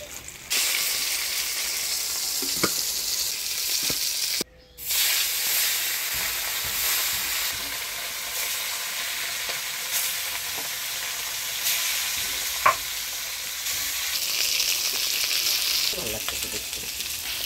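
Rohu fish pieces sizzle and crackle steadily in hot oil, browning for a Bengali fish kalia. The frying is close and continuous, with a brief break and a few sharp pops along the way.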